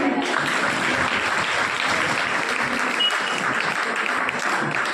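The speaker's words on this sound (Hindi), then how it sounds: "इनके सम्मान में ताली बजा दें।" Audience applause at a Vishwakarma Jayanti honor ceremony: sustained, dense clapping from a crowd, steady and fairly loud for the whole stretch with no voices over it.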